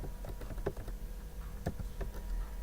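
Fingers tapping out a file path on a computer keyboard, a quick run of light, close clicks in short bursts with small pauses between them.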